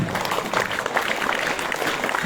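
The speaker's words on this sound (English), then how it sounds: "All of you do scout clapping." Assembled students at a school gathering do a scout clap, a brief, dense burst of many hands clapping in unison that fills the hall evenly for a couple of seconds.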